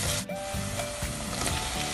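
Continuous scraping and rubbing in a pot as a spoon stirs peas and cubed potatoes, with a faint sizzle underneath and a few sharper scrapes.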